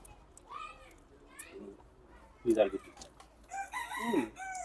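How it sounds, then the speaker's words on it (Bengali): A rooster crows nearby at a rural farm eating spot, two crowing calls with clucking fowl around, mid-distance and fairly clear against a quiet background. "এই যে এখানে খাচ্ছেন পাশে মোরগ ডাকতেছে"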